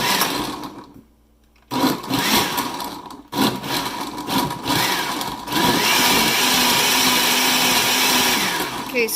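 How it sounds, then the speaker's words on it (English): Countertop blender pulsing almonds for homemade almond milk, several short whirring bursts broken by pauses, then a sustained loud grinding run, close up with no talk. "you're going to pulse the blender, and watch what happens here"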